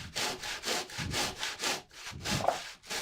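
Wood being hand-sawn while building a bellows: a steady back-and-forth rhythm of about eight rasping strokes, close and clear, with no voices.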